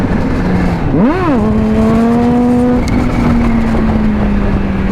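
A powerful streetfighter sportbike in third gear drops in pitch briefly, then swells into a rising, sustained engine whine at light throttle, loud and close over steady wind rush.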